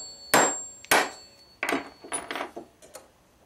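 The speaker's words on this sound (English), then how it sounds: "with the hammer, a couple of quick taps" A small hammer taps a metal reed setter seated over a harmonica reed while reeds are being replaced: several sharp, close knocks, two spaced strikes followed by a quicker cluster of lighter taps.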